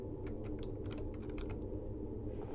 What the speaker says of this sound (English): I'm going to start typing social work